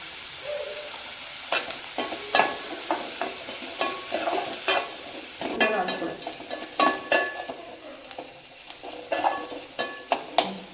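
Onions and green chilies fry in a pan with fennel powder, a steady sizzle under frequent sharp clinks and scrapes of a spatula stirring against the metal.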